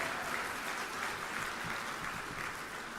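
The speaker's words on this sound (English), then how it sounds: "Give him another round of applause" Steady applause from the audience at a network showcase event for a speaker, a dense even patter of many hands clapping throughout with no voices on top.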